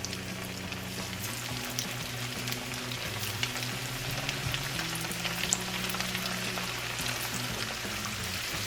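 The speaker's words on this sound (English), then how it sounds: "you're going to fry these on a medium heat for about 5 minutes until they're golden brown" Minced chicken nuggets fry in hot oil over medium heat, a steady soft sizzle and crackle with scattered pops, close and continuous, with a low hum underneath and no voices.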